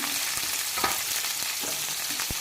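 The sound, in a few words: chillies and ginger frying in pan for vegetable pulao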